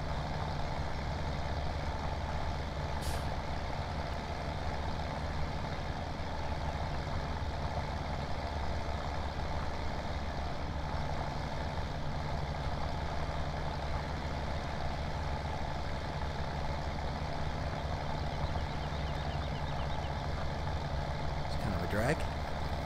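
A tractor plowing a field in Farming Simulator 17 drones with a steady, loud engine rumble that holds constant and unbroken throughout, close by, with no pauses or changes in pace.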